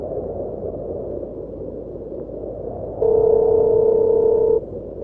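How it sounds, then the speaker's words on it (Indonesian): A phone call tone plays in the Sakura School Simulator game, a steady pure beep lasting about a second and a half over a constant low background hum; no talking. "Coba gue telepon papi deh."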